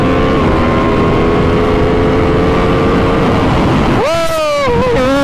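An Aprilia RSV4 motorcycle pulls hard down a race track at a trackday, its engine note climbing steadily and loudly, then dipping and surging again as it shifts near the end.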